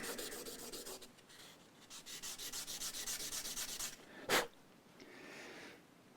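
Sandpaper rubbing during setup work on a Mexican-made Fender Stratocaster: steady rhythmic back-and-forth strokes, one louder scrape, then softer rubbing, close and quiet with no talking.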